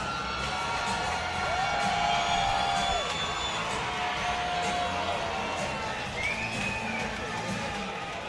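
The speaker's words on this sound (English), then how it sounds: "the crowd went crazy for Amberson" Crowd cheering and whooping at an A1 Combat MMA fight event cage, a loud, continuous roar of voices with occasional shouts rising above it throughout.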